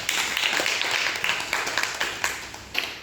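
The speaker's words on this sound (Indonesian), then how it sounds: "Mari kita tepuk tangan untuk kelompok 2" A classroom of students claps for a group, a dense spell of applause that goes on steadily for a few seconds at fairly close range.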